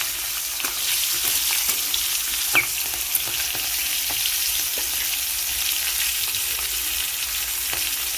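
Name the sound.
cumin and green chillies sautéing in oil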